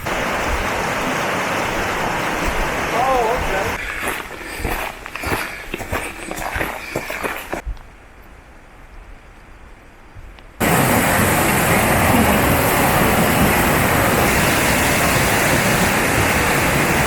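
Upper Whitewater Falls roaring beside a river: a loud, steady wash of falling water that drops out for a few seconds, with some handling bumps, then returns at full strength with no talking.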